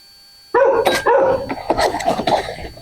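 A dog barks loudly and close by indoors, a burst of several overlapping barks and yips following a brief silence at the start, with no talk over it.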